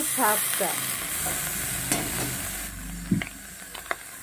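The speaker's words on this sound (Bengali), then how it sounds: "খুব সুন্দর করে কড়া করে মাছ ফোড়নটা ভেজে নিয়েছি" Spices fry in a pan with a soft, steady sizzle, broken by stirring scrapes and a few sharp metallic clinks close by.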